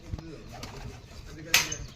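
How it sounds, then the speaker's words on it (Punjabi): A lakka (fantail) pigeon coos softly nearby, low murmuring calls over faint background noise, with a brief louder rustle midway. "ਆ ਲਕਾ ਕਬੂਤਰ ਆਪਣਾ"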